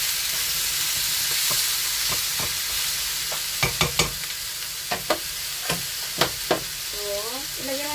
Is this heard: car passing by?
no